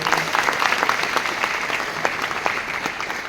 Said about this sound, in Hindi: सो एक बार मेरे पापा के लिए जोरदार तालियां।